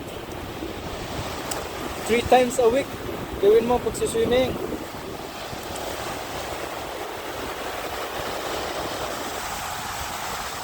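Steady surf roar at a beach with wind rumbling across the microphone, someone talking briefly in Filipino over it partway through.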